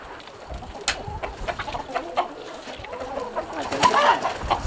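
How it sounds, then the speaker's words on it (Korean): Native Korean chickens cluck and squawk in a rural yard, scattered short calls at close to moderate distance, growing busier toward the end over faint background noise. "행순 할머니 담례로 토종닭 한 마리를 잡을 요량이다"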